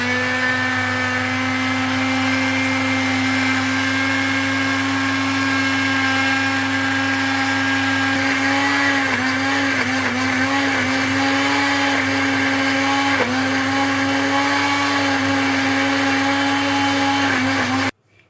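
A blender grinds onion and tomato into a paste with a little water, lid on, running as a loud steady whir for about eighteen seconds with slight dips in pitch midway, then cutting off.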